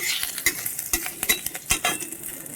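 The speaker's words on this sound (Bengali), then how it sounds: "কাঁচা লঙ্কাটাকে একটু নাড়িয়ে নেব" Nigella seeds and green chillies fry in a pan, sizzling steadily while a spoon stirs them with quick, irregular scraping knocks close by.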